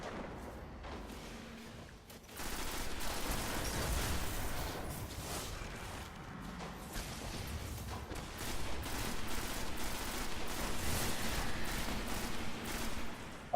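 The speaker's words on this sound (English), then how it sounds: "basically 5 shots of a pulse rifle" Pulse rifle fire in Destiny on PS4, co-op in the Devil's Lair on Earth: repeated sharp shots in quick bursts, mostly steady and fairly loud, with a brief lull near the start before the firing resumes.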